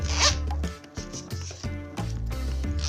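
A zipper on a pencil case is pulled open in a short scratchy run, heard close and fairly clear over a steady musical background.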